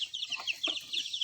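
Three-week-old free-range chicks peep and cluck in a coop during a move to a bigger pen, a steady chorus of high chirps with a few lower clucks, close and moderately loud.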